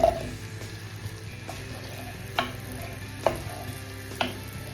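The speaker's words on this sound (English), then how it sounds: "And I'm going to fry off my baby onions." Baby onions fry in olive oil and butter in a pan, a soft steady sizzle broken by a few sharp clinks of stirring, close but fairly quiet, with no talking.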